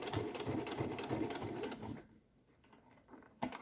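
A sewing machine stitches a back-tack on a school pencil case, running in a fast steady whir up close for about two seconds, then stopping, with a brief mechanical clunk near the end.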